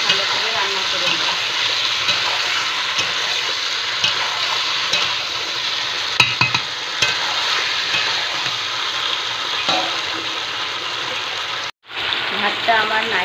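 Chicken meat cooks in a pot for biryani with a loud, steady sizzle and frying hiss, broken by occasional stirring clatter and a brief gap near the end.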